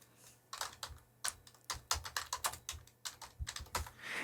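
Someone types a search into a computer keyboard, with bursts of quick, close key clicks separated by short pauses and no talking.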